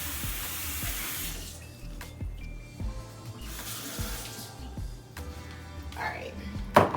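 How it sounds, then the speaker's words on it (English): Tap water runs into a measuring cup being rinsed at a kitchen sink while cooking a seafood sauce with garlic, a steady close splashing wash with clatter and a voice speaking over it. "Let me rinse out the measuring cup."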